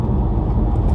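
A 2011 Audi A5 with a 3.0 TDI CDUC diesel, which has oil leaks, runs steadily from the driver's seat with a dense, low rumble that stays even throughout the brief stretch.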